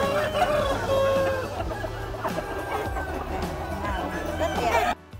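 Farm chickens clucking continuously, with a rooster crowing, close and busy over a steady low hum, with a voice talking alongside.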